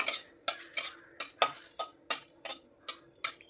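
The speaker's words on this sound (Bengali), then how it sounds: "লঙ্কাটা বেশ লাল লাল করে ভেজে আমি তুলে রাখছি।" Dried red chillies being stirred in oil in a wok, with about ten sharp spatula scrapes and clinks in an uneven rhythm and only faint frying between them.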